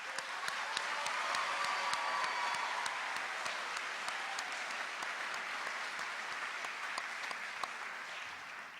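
Steady applause from a commencement audience cheering graduating high school students, dense clapping sustained for several seconds, moderately distant and without speech.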